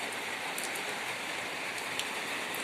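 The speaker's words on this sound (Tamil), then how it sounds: "ஒரு ஒரு மணி நேரங்கிட்டேயே மழை போயிட்டே தான் இருக்குது இப்போ தான் ஸ்டார்ட் ஆச்சு" Rain falls steadily outdoors in a dense, even hiss with scattered louder drops hitting nearby surfaces and no talk.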